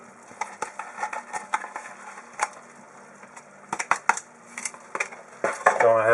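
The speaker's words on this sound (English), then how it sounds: "Go ahead and stir in the cheese." Spoon stirring cheese into a mushroom and sausage risotto in a pan, with scattered light clinks and scrapes against the pan, quiet between strokes and busier toward the end.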